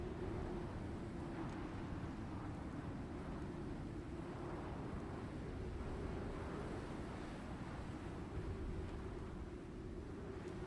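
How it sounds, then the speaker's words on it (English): Steady, heavy wind roars continuously in the survival game Icarus, a dense low rumble with gusty hiss that stays loud throughout with nothing else on top. "Bloody windy."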